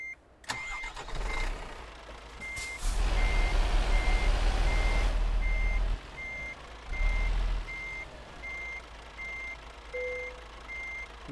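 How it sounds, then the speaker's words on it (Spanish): A heavy truck in Euro Truck Simulator 2, hauling a 44-tonne load, reverses with a steady run of evenly spaced backup beeps over a rumbling engine that swells and fades as the throttle comes on and off, with no talking. "Mira, el motor."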